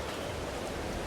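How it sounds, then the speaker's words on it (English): Steady rain falls in Farming Simulator 22 on a farm field, a dense, even hiss of drops with no breaks, fairly soft and continuous throughout. "Now it's raining, the grass is going to be wet"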